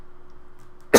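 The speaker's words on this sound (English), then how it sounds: "I'm really sorry about the coughing." A single sharp cough bursts out after a near-silent stretch with a faint steady hum.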